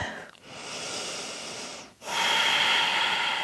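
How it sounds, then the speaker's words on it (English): Close, audible Ujjayi yoga breathing through the nose with a contracted throat, two long hissing breaths separated by a brief pause. "So if you practice Ujjayi breathing, then please use it. Contracting your throat, breathing through the nose."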